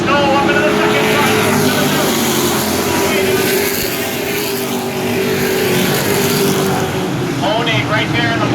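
Pro racing trucks roar around an oval race track in a loud, continuous engine drone, with passing engine swells and a commentator talking over the sound.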